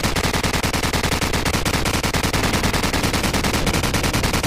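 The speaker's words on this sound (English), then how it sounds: "who's shooting at me?" Sustained automatic gunfire in Call of Duty 4: Modern Warfare, rapid dense bursts of shots aimed at the player, loud and continuous throughout with no pauses.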